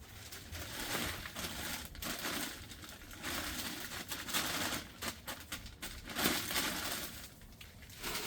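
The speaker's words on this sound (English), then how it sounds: "Just pour in the soil." Potting soil is poured over planted bulbs in a container, giving faint, uneven crunching and rustling that comes in irregular bursts.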